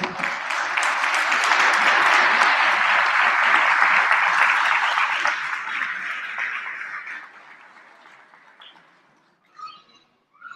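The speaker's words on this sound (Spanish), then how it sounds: "Un fuerte aplauso." An audience at a public political event in Durango gives a strong round of applause, loud and dense for several seconds before thinning out and fading, with a few stray claps near the end.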